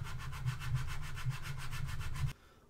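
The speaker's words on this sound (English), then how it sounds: "Take my sanding stick here." Steady back-and-forth strokes of a sanding stick scrape rhythmically over cured Bondo filler on a toy gun, about a dozen quick passes, close and clear, then stopping abruptly.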